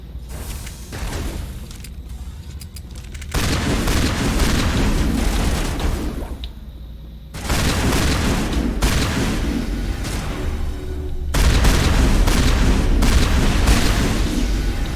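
Shotgun blasts in the sci-fi game Mass Effect: heavy, booming discharges land in long, loud bursts, each followed by a sustained rumbling roar, repeating over the stretch with short lulls between.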